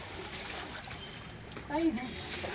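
Water splashes and trickles nearby during washing, with a person's voice speaking briefly over it near the end.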